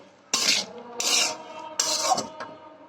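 Bean peas are stirred with browned onions in a frying pan, giving three loud, close, rasping scrapes of a spoon against the metal with short pauses between them.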